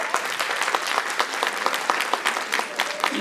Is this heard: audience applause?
yes